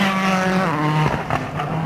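A rally car races flat out along a flowing, cambered New Zealand gravel stage in the 2007 World Rally Championship, its engine holding a loud, steady high-revving tone, then shifting pitch briefly as it changes gear near the middle.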